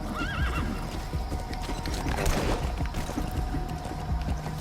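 In Metal Gear Solid V: The Phantom Pain, a horse gives a wavering whinny near the start while its hooves clip-clop in a steady rhythm over outdoor ambience, moderately close and with no talking.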